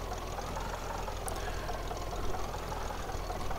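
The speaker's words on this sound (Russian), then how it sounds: "звук двигателя" Tractor engine in Farming Simulator 2013 idling at a steady, moderate level, a continuous low rumble with a faint mechanical knock, no talk over it.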